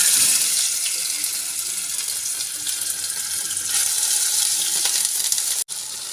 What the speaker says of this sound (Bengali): তেলটা খুব ভালো করে গরম হয়ে গেছে, আমি এবার একে একে সব মাছ ভেজে নেব।